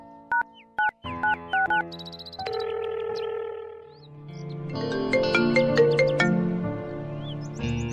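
A phone plays a melodic electronic ringtone for an outgoing call: a few short beeps, then a rising, layered tune that keeps repeating.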